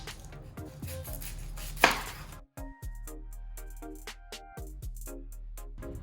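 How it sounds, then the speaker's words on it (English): Vegetables for a veggie lasagna are chopped on a board, a close, steady rhythm of crisp knife knocks with one short pause, heard alone without speech. "So now I'm gonna go chop the veggies."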